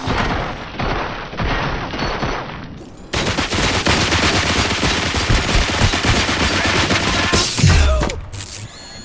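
Sustained automatic gunfire in RoboCop: Rogue City, loud and continuous rattling volleys after a brief opening burst, ending with a heavy thud and a final clatter.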